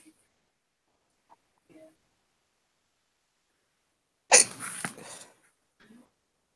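A single sneeze bursts out during a quiet indoor study session, loud and close, following a few faint small noises and trailed by a brief soft sound.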